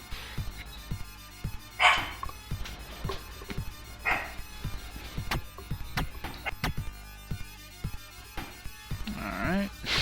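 Over ten seconds a dog barks intermittently in the background, with a few sharp yips and woofs scattered among clicks and soft game sounds.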